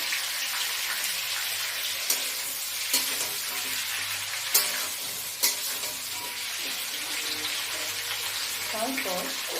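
Potatoes and eggplant fry in a pan with a steady, hissing sizzle, broken by a few sharp clinks of stirring.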